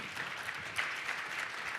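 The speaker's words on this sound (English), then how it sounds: "It's okay to clap." Brief, fairly quiet applause from a conference audience at an advertising industry event, a soft even patter of many hands clapping.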